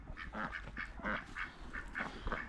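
Ducks quacking around a poultry hut at a Banat village museum in Romania, a run of repeated nasal quacks from several birds close by, with no talk.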